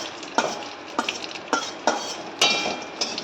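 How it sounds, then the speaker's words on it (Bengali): Potatoes frying with cumin seeds and dried chili, a sizzling hiss broken by regular spatula strokes against the pan, about six sharp scrapes at even intervals, close up with no speech. "আলুটা একটু ভাজা হোক,"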